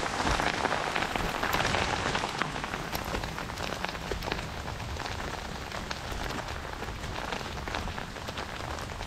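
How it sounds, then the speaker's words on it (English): Hail falls in a dense, continuous patter, loud and close, with sharp individual impacts crackling through a steady wash of noise for the whole stretch. "Ooh, that is hail."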